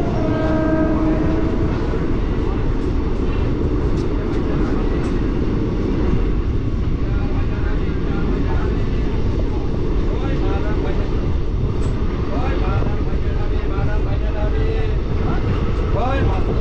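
The Teesta Torsa Express passenger train rumbles along the rails in a loud, continuous roar with rhythmic clatter heard from inside, and a brief horn-like tone near the start.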